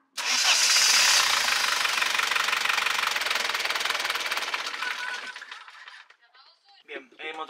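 An inboard diesel engine on a sailboat, restarted after running out of fuel, cranks and fires. It runs loud and continuous with a knocking rhythm, then dies away near the end as voices speak briefly.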